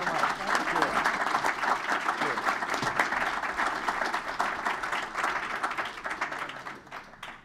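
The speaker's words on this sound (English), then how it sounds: "Let's give a great round of applause to our first panel here at Railvolution." An audience at a Railvolution transit conference panel breaks into sustained applause, a dense, even crowd clapping that fades slightly toward the end.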